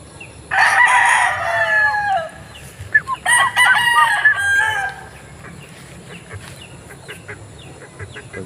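A young Nelson's Black Straight Comb gamecock stag crows twice nearby, each a loud, wavering call with a strained, breaking end, followed by quieter background sounds.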